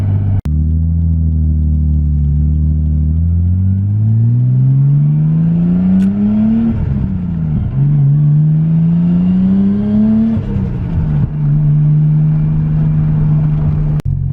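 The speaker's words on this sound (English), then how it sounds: "We have a nice little car. It's finally working." Nissan Skyline R33 engine, loud and close, climbing from idle through a long rising rev, dipping, climbing again, then settling to a steady high idle, with no voices.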